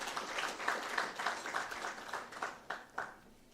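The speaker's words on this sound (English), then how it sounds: "A round of applause for him as well." Gala dinner guests at a climate change summit give a round of applause; the clapping starts full, thins into a few scattered final claps and fades out.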